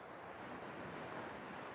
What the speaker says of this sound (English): we're down at Pranbury Beach.